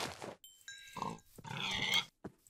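Several loud, close pig grunts and squeals from a video game in quick succession, with short gaps between them and no talking.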